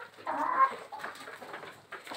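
Chickens cluck and squawk in a busy, overlapping flurry as they are fed their grain, the calls close and fairly loud, with a short lull before a few more clucks near the end.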